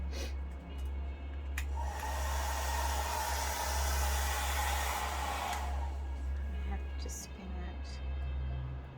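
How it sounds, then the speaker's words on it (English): A hairdryer blows with a loud steady rushing whoosh for several seconds in the middle, switching on and then cutting off, over a low background hum indoors. "Hairdryer."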